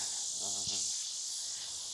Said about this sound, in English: I feel like the deeper I go, the more cicadas there are, and the worse it'll be.